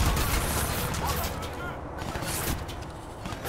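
Rapid gunfire from the video game Crysis 2, a steady loud burst of shots with someone talking over it.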